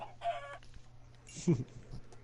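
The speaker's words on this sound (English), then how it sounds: "Oh, look, a chicken." A chicken gives a short burst of clucking mid-clip, fairly close and moderately loud over a low steady hum, with a fainter cackle before it.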